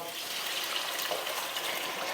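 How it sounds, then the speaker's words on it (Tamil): Tamarind water blended with tomato and masala pours into a pan for Tamil fish kulambu, a steady close hissing trickle of liquid with no talk. "இப்போ நம்ம கரைச்சி வச்சுருக்க புளி தண்ணி தக்காளி மசாலா எல்லாமே ஒன்றா சேர்த்து கரைச்சி வச்சுருக்கோம் இப்போ இதை சேர்த்துடலாம்"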